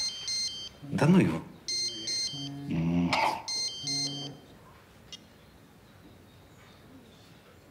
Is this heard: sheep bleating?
no